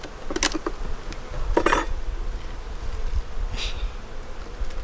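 Bees buzz inside a wooden beehive during winter care, a steady low drone with a few sharper, closer wingbeat bursts rising out of it as individual insects pass near.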